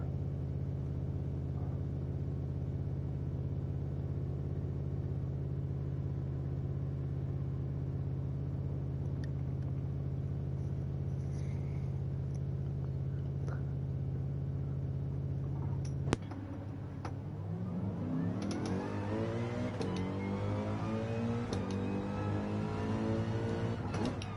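GT3 race car engine in Gran Turismo 7 during a qualifying session, a steady loud droning hum at constant revs that suddenly shifts into a rising, revving acceleration as the car launches into a flying lap.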